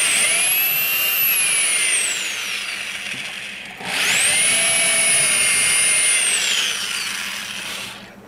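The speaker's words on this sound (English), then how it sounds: "this is 5/16 drill bit. We need to put vent holes around the perimeter." A power drill fitted with a 5/16 bit bores vent holes into a homemade incubator, two sustained high whining bursts that rise and fall in pitch, loud and close, with no talking.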